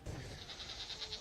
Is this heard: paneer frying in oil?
no